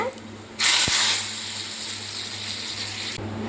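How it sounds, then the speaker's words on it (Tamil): Hot oil tempering poured over drumstick leaves bursts into a loud hiss that quickly settles into a softer sustained sizzle before stopping. "இப்போ தாளிப்பை கீரையில் கொட்டிடலாங்க."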